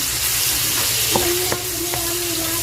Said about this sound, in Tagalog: Wait natin siya hanggang mag golden brown yung sibuyas at saka bawang